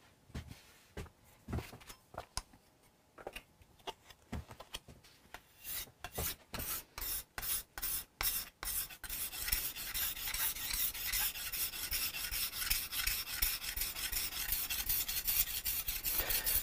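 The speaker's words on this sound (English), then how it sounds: "This scraper is removing scratches from the wood as well." A hand scraper draws across the wooden body of a Hofner Galaxie guitar, taking out scratches: sparse scrapes at first, then a run of evenly spaced rasping strokes that quicken into a dense, continuous scraping close by.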